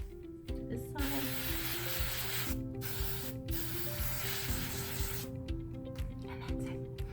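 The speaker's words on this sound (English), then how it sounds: "So I spray, lifting my hair as I spray, so it gets every piece to this side." TRESemmé hairspray hisses from a can in several close bursts while it is sprayed onto curly hair, with short pauses between bursts and music playing underneath.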